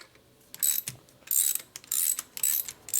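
Several quick ratcheting bursts come from a ratchet turning a bolt on a 1977 1000cc Ironhead Sportster motorcycle engine, with crisp clicking pulses in an uneven rhythm and short pauses between strokes, close and clear.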